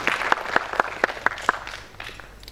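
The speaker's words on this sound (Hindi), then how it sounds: "अहाँ कस के लिए एक जोड़ा ताली निकाल सर के लिए" Scattered hand clapping from a small audience welcoming a guest at an annual community celebration in Goa, a handful of distinct claps at steady intervals that thin out and fade.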